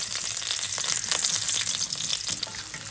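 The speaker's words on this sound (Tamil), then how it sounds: "ஒரு பேனில் கடுகு கடலப்பருப்பு போட்டு நல்லா வதக்கிக்கோங்க." Mustard seeds and chana dal fry in hot oil in a pan for Chettinad fish kulambu, a dense, close crackling sizzle with faint stirring and no talk.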